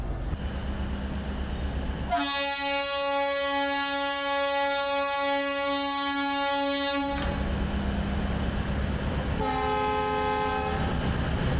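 A WDP-4 diesel locomotive sounds its horn while being coupled to the Katihar Siliguri Express at Siliguri Junction, a loud sustained multi-tone blast of about five seconds, followed later by a shorter, fainter horn note over station ambience.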